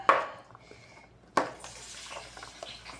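A spoon stirs kinilaw in a dish, with two sharp clinks against the bowl followed by soft wet scraping and mixing, close and moderately loud.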